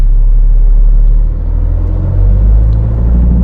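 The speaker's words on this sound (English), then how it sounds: "So let's launch the car." A 2013 Hyundai Verna 1.6 automatic front-wheel-drive sedan launching from a standstill, heard from inside as a loud, deep engine rumble and drone that dips briefly then swells again.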